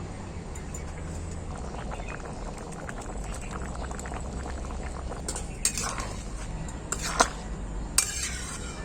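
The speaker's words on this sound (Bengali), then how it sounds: "ঝোলটা আমার খুব ভালো করে ফুটে গেছে" Ghugni gravy bubbles steadily in a pot, a continuous close, even boil with a few faint clinks near the end.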